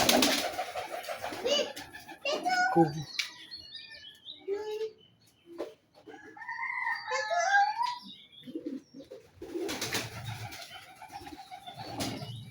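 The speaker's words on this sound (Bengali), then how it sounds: "একটা লাহোরি কবুতর লাহোরি" Lahori pigeons in a home pigeon loft coo and chirp in soft, irregular phrases, close and clear, with brief human speech at a few points.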